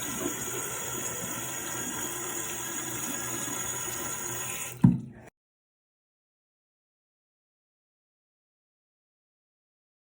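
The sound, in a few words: splashing water on face at sink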